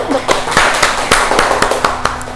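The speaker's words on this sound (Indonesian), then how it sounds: "Kasih tepuk tangan dulu." Scattered claps from a classroom group, sharp separate hits in an uneven rhythm rather than a full ovation, fairly close, with a faint steady hum underneath.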